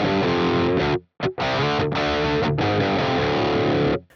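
Electric guitar through the Neural DSP Archetype Plini amp sim with its drive set to normal overdrive, playing loud, saturated sustained chords broken by a few short silent gaps before cutting off.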